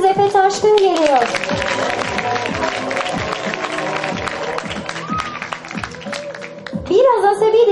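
An audience at a kindergarten's 2012 year-end show applauds as a smiling student comes on stage. Steady clapping runs under a voice and music throughout.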